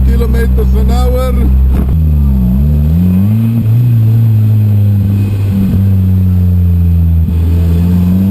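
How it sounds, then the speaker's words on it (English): A Lotus Exige sports car rolls downhill at about 35 km/h on the Trollstigen mountain road in Norway, its engine holding a steady low drone that rises and dips slightly, loud and close throughout, with a voice talking briefly at the start. "we are driving down the hill with 35 kilometers an hour"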